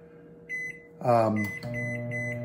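A microwave oven heating a serving of rice hums steadily close by. A few soft beeps sound over the hum, a loud thud and rattle comes near the middle, and then the steady drone carries on.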